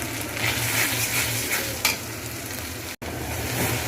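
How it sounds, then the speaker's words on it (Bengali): Beef for a curry fries in a pan with onion, ginger and garlic, giving a steady, close sizzle with a few scraping stir strokes and no talking. "আমি এরকম একটু ভালো করে ভেজে নেব, আমি কাঁচা গন্ধটা না থাকে"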